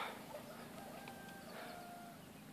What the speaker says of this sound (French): On entend les coqs.